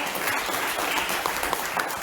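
A church congregation breaks into applause during a Spanish-language sermon, a continuous roomy patter of many hands with a few sharper individual claps standing out near the end.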